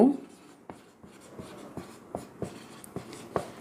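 Pen or chalk writing out a maths solution during a Class 10 lesson, a run of short scratchy strokes and taps at an uneven pace, fairly close and moderately quiet, with no talk over it.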